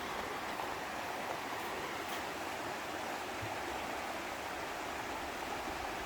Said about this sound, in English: here is the Potomac River